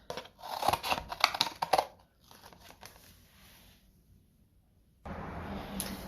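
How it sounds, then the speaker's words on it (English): Scissors crunch through cardboard to cut out an animal shape, a rapid run of close, crisp snips and rustles followed by quieter scraping and handling, with no speech. "right on the cardboard. And then I'm going to cut it out."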